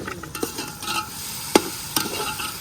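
A utensil works a paste of tomato, green chili and onion in a pan with chicken karahi, giving soft scraping stirs and a few sharp clacks against the metal amid a faint sizzle.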